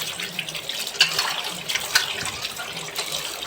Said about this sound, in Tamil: நல்லா ஒரு ரெண்டு தடவை தண்ணி ஊற்றி கழுவுங்க